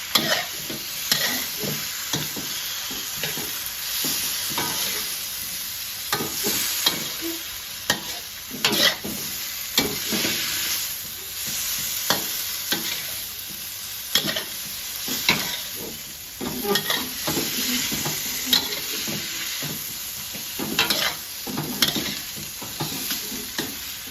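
Mixed vegetables and shrimp are stir-fried in a pan with sugar added, giving steady sizzling and frying under repeated scraping and clattering of a spatula stirring, close and continuous throughout with no talk.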